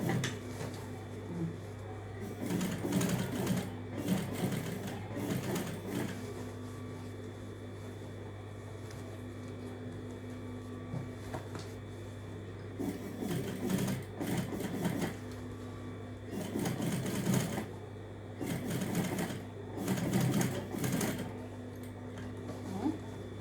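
A domestic sewing machine stitching fabric at home, running in several bursts of rapid mechanical whirring separated by pauses, over a steady low hum.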